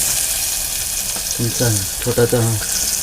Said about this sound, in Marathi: ही बघा, कढीपत्ता आणि एक छोटा चमचा, एक छोटा कांदा बारीक चिरून.